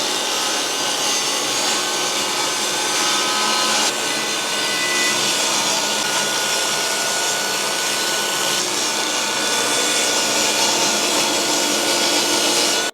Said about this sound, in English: We're having to cut these on the track saw because the table saw doesn't go up to 800mm